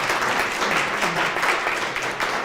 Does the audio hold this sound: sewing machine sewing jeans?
no